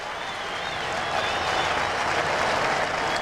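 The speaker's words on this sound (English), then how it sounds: "He gets a huge ovation from the sellout crowd at the Great American Ballpark" A sellout crowd at Great American Ballpark gives a huge, sustained ovation of applause and cheering, loud and building slightly, a dense roar of clapping from a large stadium audience.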